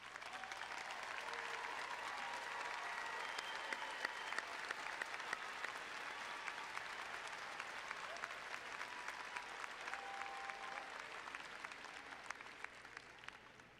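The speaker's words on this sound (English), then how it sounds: "please stand for a well-deserved round of applause" An arena audience at a 2016 undergraduate commencement gives the faculty a long, sustained round of applause, a broad, even roar of many hands heard from a distance.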